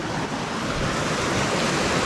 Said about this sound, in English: And there we are, we have located the waterfall.